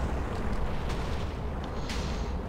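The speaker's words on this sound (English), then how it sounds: "some of the explosions are happening through the upper circle" Red matter explosions in the Minecraft Education video game make a dense, continuous roar of overlapping booms and crackling rumble, loud and sustained, with occasional sharper bursts.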